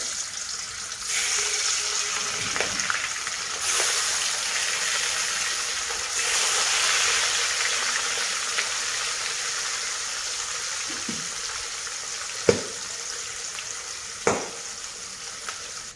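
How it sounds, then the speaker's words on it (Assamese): Rohu fish frying in a pan, a steady broadband sizzle filling the whole span at moderate loudness, with a couple of sharp utensil taps near the end and no talk. "অলপ কাঢ়াকৈ ভাজিব লাগিব মাছ"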